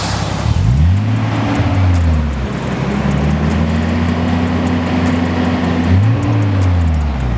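A car treated with engine detergent drives past nearby, its engine note rising and falling as it accelerates through the gears, loud and steady throughout with no talking.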